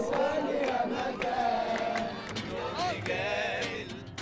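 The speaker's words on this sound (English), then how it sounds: "This crowd is energized, they're fired up, they're excited." A demonstrating crowd in Tahrir Square, many voices chanting and shouting together in rising and falling waves, loud and energetic with whistles and cries cutting through.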